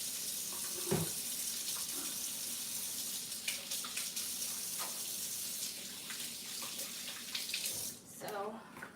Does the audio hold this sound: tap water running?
yes